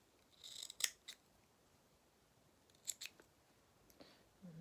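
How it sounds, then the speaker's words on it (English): Sharp scissors snip through felt fabric for a sewn doll, a few crisp, close cuts in small clusters separated by quiet pauses. "So let's just snip that there."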